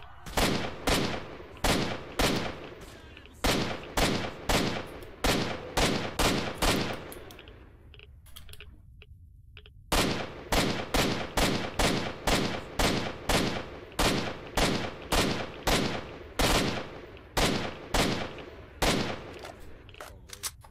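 Gunfire rattles out in S.T.A.L.K.E.R. Shadow of Chernobyl as loud, close shots in rapid, evenly spaced bursts, with a brief lull in the middle before the firing resumes.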